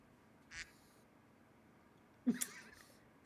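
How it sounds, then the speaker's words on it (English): A duck gives two short, faint quacks about two seconds apart, the second a little louder and more broken, against a quiet background. "it's a duck."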